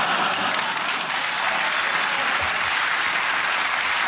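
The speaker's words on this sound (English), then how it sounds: "I love the way that they clapped at different times" Studio audience at a British comedy panel show breaks into sustained, dense applause, loud and close, with no talk over it.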